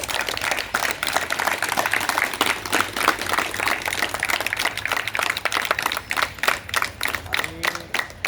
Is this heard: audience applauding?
yes